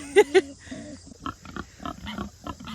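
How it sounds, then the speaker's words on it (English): Hungry pigs grunting while waiting to be fed, two sharp loud snorts up front followed by a run of lower rhythmic grunts nearby. "Can you hear the pigs?"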